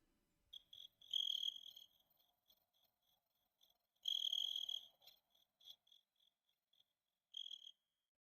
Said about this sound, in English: See? Crickets.